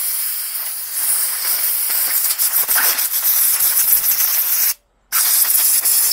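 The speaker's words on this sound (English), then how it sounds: "If you've got a compressor, it does make life so much easier." Compressed air from a workshop compressor blasting through a petrol strimmer carburettor, a loud continuous hiss in steady bursts with one brief cutoff before it resumes.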